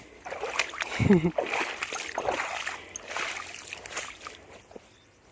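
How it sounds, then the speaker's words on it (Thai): Someone wades through a flowing forest stream while foraging for bamboo shoots, with a burst of close splashing followed by continuous sloshing and running water as people talk. "น้ำไหลเลย"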